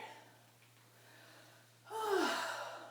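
A deep inhalation during a yoga breathing exercise, a strong, airy breath drawn in close and loud after a quieter, breathy stretch, with no talking over it.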